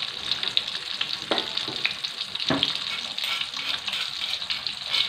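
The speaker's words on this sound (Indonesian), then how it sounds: "sekarang saya goreng rempahnya ya sahabatku" Spices frying in a pan for a jengkol semur dish, a steady close sizzle with a few louder stirring scrapes, no talking.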